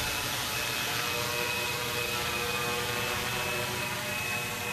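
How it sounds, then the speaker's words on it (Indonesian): A fixed-wing drone aircraft descends, its steady droning engine hum and airflow noise constant and fairly loud throughout, with no voices. "Ini dia pesawatnya turun ya."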